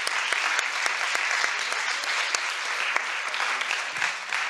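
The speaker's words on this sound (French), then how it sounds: "Merci d'applaudir nos panélistes." An audience applauds panelists at the close of a conference session, a steady mid-level patter of many hands with a few sharper nearby claps standing out.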